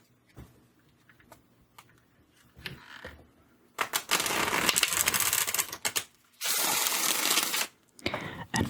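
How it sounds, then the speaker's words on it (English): Tarot cards are shuffled in loud, rapid riffling bursts, several in succession with brief pauses between, close up and without talk. "Blow them off the table with my shuffling."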